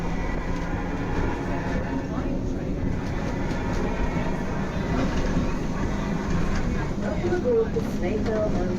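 An Isle of Man railway train approaching Laxey gives a loud, steady rolling rumble with rattling throughout, and voices are heard faintly under the running noise.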